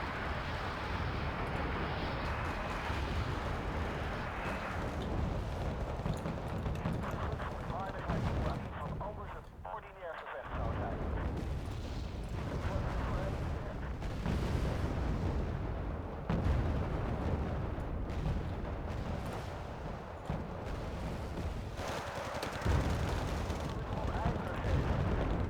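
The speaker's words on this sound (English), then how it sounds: "These bombing runs. Almost got your command too." Bombing runs in the war strategy game Wargame Red Dragon set off repeated heavy explosions and rumbling blasts, dense and continuous with sharp booms breaking through a constant battle roar.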